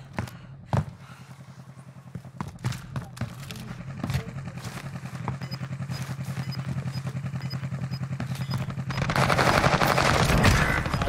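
Gunfire in the video game Warzone: scattered distant shots and short bursts under a steady droning hum, with a rising engine-like roar toward the end and no talk.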